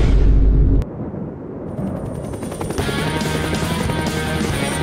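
A helicopter crashes in the Minecraft game, opening with a loud low boom that cuts off sharply, followed by steady rotor-like rumble and rising hiss with a high whine, continuous to the end.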